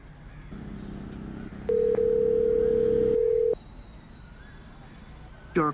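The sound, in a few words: telephone ringing tone on a call that goes unanswered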